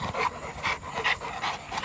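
A dog pants rapidly and steadily close by outdoors, quick rhythmic breaths repeating about every half second, with no voices.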